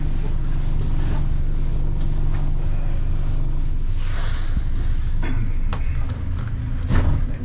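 A 2025 Hewescraft 220 Ocean Pro boat with a Yamaha F200 outboard pulls away from a dock, its engine a steady, loud low rumble throughout with wind and water noise layered on top.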